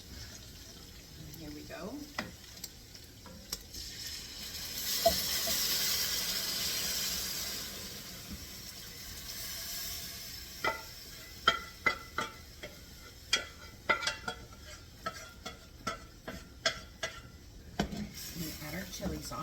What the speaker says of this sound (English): So now we're gonna add our chili sauce.